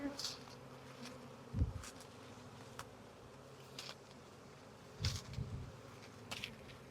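A swarm of honey bees buzzes faintly in the background, with a few brief louder thumps and rustles near the start and toward the end.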